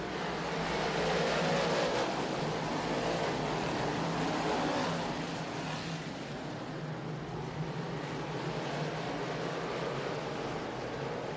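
Modified race car engine roaring steadily at Thunder Mountain Speedway, a loud sustained drone that swells over the first five seconds then holds at a constant level as the car comes off the turn.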